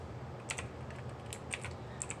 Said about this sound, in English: using my keyboard clicking away probably